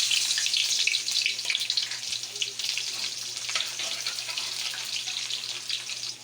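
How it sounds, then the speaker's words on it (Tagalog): Garlic and onion frying together in hot oil in a wok, a continuous bright hiss with a faint low hum underneath, close and steady without talk. "Ilagay na natin yung ating bawang tsaka yung ating sibuyas."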